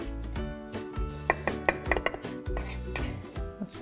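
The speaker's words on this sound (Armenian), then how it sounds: "Լոլիգը ցենց կտրատում ենք։" A knife chops tomato on a board for a Armenian salad with walnuts and cheese, a run of close, irregular knocks and clinks with faint dishware sounds around them.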